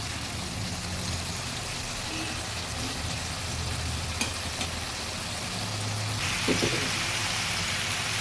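Masala frying and boiling in a pan while Bengali bean and posto is cooked with onion shoots, a steady close sizzle and bubbling throughout with a slight rise near the end.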